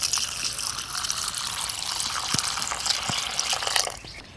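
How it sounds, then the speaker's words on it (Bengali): Lentils (dal) are rinsed under running tap water in a Bengali home kitchen, a continuous close splashing gush with small clinks, fading near the end. "ডালটা আমি ধুয়ে নিচ্ছি।"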